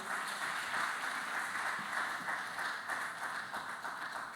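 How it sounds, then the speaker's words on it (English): A conference audience at an inaugural church session claps in a steady round of applause, a continuous, fairly loud wash of hands that carries through to the end. "Give him a round of applause, please."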